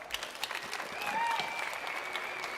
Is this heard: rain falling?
no